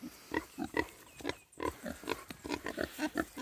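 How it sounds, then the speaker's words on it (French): Pigs on a farm in Scotland giving a run of short, close, repeated grunts and snorts in an uneven rhythm, with a brief pause partway through and no talk. "Allô les cochons!"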